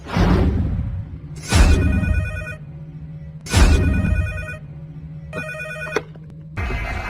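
A telephone rings in repeated electronic bursts, each with a sharp attack and a ringing tail, spaced about two seconds apart, loud and close with a low hum underneath.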